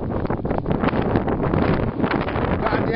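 Wind gusting outdoors on a disc golf course buffets the microphone in a continuous, loud, muffled rumble with no break.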